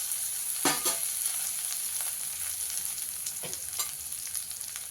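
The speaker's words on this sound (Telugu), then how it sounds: "ఈ ఉల్లిగడ్డలు వేసిన తర్వాత ఉల్లిగడ్డలు దోరలుగా వేయగలండి" Sliced onions fry and sizzle in oil in a pan for Hyderabad-style curd vada, a steady close hiss with occasional stirring scrapes, no voices.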